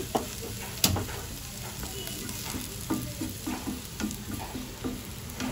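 Chopped garlic and onion fry in a pan, with a steady close sizzle and a sharp clack followed by regular scraping stirs throughout, and no one talking.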